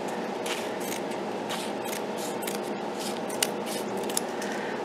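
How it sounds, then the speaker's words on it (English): Cheap craft scissors cutting a long tapered triangle from paper, a quick run of crisp snips close by over a low steady background hum. "these are like the cheapest craft scissors ever"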